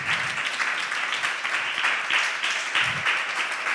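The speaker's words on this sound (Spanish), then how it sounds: "Denle un aplauso al Señor." A church congregation at a Spanish-language sermon breaks into sustained, full applause, a thick, even wash of clapping that continues without pause.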